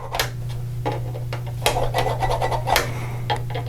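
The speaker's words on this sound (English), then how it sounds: "Just going to dimple the surface." A metal marking punch pressed into a plastic surface to dimple it gives a handful of short, scratchy scraping bursts over a low steady hum, close by and fairly quiet.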